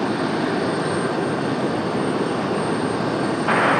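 An airplane landing at Raleigh Durham airport makes a loud, steady, broadband engine roar that holds without a break and swells slightly at the end.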